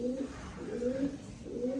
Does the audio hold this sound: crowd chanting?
no